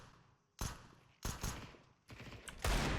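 Gunfire in Counter-Strike 2, several sharp close bursts of shots in quick succession, each ringing out briefly before the next volley, growing louder toward the end.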